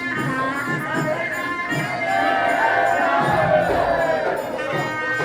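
A dense crowd of devotees murmurs and calls out as a palanquin procession arrives at the temple during the Shri Siddhanath yatra in Dahiwadi, a continuous swell of many voices close by with scattered cheers.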